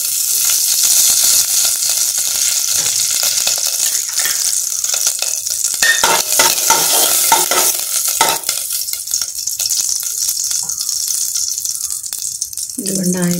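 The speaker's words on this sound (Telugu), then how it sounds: "కళాయి వేడైంది కదా, ఆయిల్ పోసుకుందాం. ఇప్పుడు ముందుగా వెన్న వేసేసుకుందాం." Butter and oil sizzle loudly in a hot kadai while prawn biryani is cooked, a steady, dense frying hiss running throughout with a slight easing near the end.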